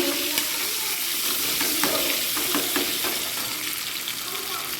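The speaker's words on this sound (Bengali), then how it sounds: "ডিমগুলো দিয়ে দিয়েছি দিয়ে ভালো করে ভেজে নিচ্ছি" Eggs coated with salt and turmeric fry in a pan, a dense, steady, close sizzle with light stirring scrapes and occasional pops throughout.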